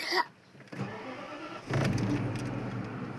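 A BMW car engine, just repaired after a starter motor fix, cranks with a short burst, then catches and settles into a steady, close running rumble with no talk.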